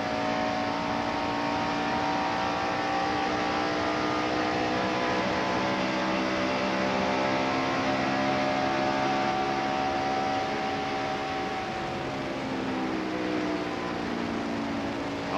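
Stock cars racing in the 1992 Hooters 500, a steady, loud engine drone with rising and falling pitch from cars circling the track, no voices heard.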